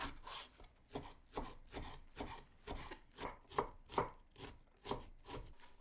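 A knife slices squeezed Napa cabbage on a board in a steady series of close chopping strokes, each with a slightly rasping edge, with no one speaking.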